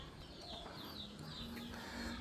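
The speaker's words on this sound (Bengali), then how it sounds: "দেখুন মুরগিটা ধরার চেষ্টা করছে।" Local village chickens clucking and calling as someone tries to catch them, a steady outdoor mix of bird sounds at moderate distance with no clear speech.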